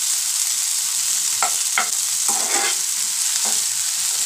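Tomato and garlic sautéing in oil for a village-style fenugreek kuzhambu, a steady sizzle with a few scraping stirs of a spoon against the pan, close and alone with no voices.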